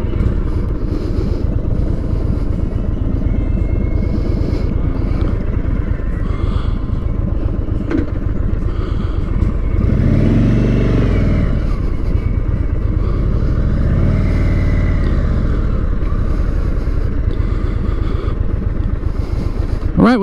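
An Indian Chief motorcycle with mini ape-hanger bars on a demo-day test ride, its engine droning loud and continuous under heavy wind buffeting and swelling through two rising revs midway.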